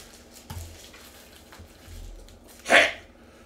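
A person lets out a single short, sharp sneeze that stands out loudly near the end against a quiet room with a few soft thumps and handling noises before it.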